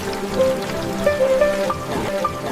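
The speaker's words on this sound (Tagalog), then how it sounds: "Dumarating ang ulan, isang hamon na kailangang lampasan." Rain falls steadily with scattered drips and trickling water, a continuous close wash of patter with brief brighter droplet tones picking out over it.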